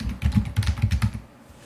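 Rapid keystrokes on a computer keyboard, a quick burst of clustered clicks for about a second before it stops, close and fairly loud with no talk.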